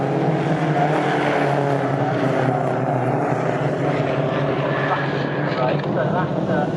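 Race cars running side by side toward the S's at Snetterton during a trophy race, a loud steady engine roar with a commentator talking over it.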